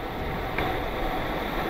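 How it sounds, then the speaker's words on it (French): Steady wind buffeting a microphone while riding a bicycle on a road, a continuous broadband roar that stays loud and unbroken throughout, with no voice over it. "Malgré le bruit du vent."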